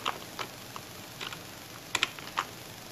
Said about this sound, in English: you can use arrow keys on the keyboard to move.